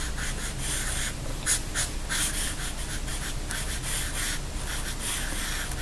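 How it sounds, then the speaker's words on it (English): Someone writes large cursive letters by hand on paper. A steady, close scratch of pen or pencil runs throughout, with short strokes and pauses and a faint rubbing texture, and no one speaks. "I would have to write a lot bigger"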